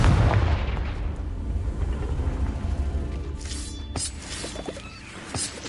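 A Confringo blasting spell explodes in the Hogwarts Legacy video game, a loud booming blast that rumbles and decays over several seconds, followed by faint crackling game effects.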